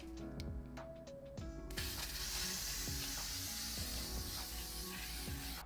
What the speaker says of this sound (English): we're relying on setting powder and setting sprays today, the L'Oreal Infallible.